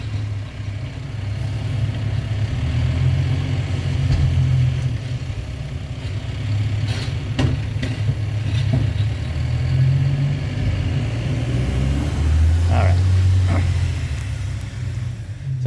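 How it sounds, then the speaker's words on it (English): A trash truck's engine idles nearby with a steady low rumble, swelling slightly as it moves, a few clanks and squeals ringing out over the drone. "I'll wait for this trash truck."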